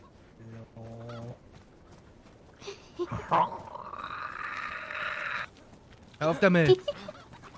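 A chicken in the video game DayZ clucks and squawks in brief bursts, with scraping game noise and a voice talking over it.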